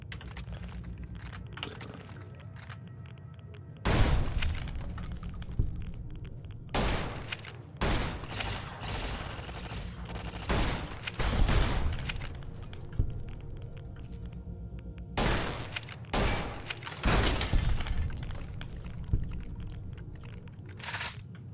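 Turrets in Fallout: New Vegas open fire in repeated bursts of rapid, crackling shots, clustered volleys loud against a quieter hum, with pauses between the bursts and no talking.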